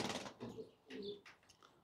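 Pigeons coo faintly at a distance, a few short throaty calls separated by quiet gaps.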